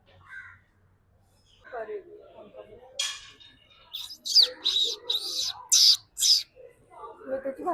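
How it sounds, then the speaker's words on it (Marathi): A peacock near a Shiva temple at Malabar Hill gives a run of loud, harsh, repeated calls close by, mixed with people talking. "इकडे मोर आलाय"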